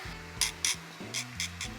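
A 0.2 mm SAB panel liner scribes panel lines into a resin plastic model kit, giving short, close scratching strokes in an irregular rhythm over a faint background hum.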